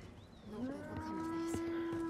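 An ox in Dragon's Dogma 2 lets out a single drawn-out moo, rising then holding a steady low tone, clear and alone for about two seconds.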